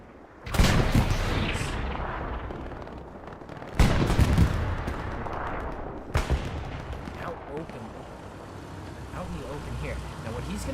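Tank shells fire in the console game Hell Let Loose, three heavy booming blasts spread over several seconds, each trailing into a rumbling battle din of distant gunfire and engines, with a voice talking underneath.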